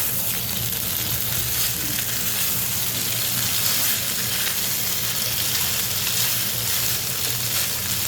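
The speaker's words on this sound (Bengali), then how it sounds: "এখন আমি সুন্দর করে ভাজা ভাজা করে নিয়ে তারপরে নুডলসটা দিব" Cooked chicken frying in a pan for spicy noodles, a steady, dense, close sizzle with faint stirring underneath and no talking.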